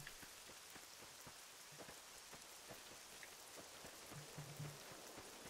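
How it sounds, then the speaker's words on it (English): Steady, quiet rain in a modded Fallout video game patters down with scattered droplet ticks, a soft continuous hiss filling the background. "Why did it have to start raining?"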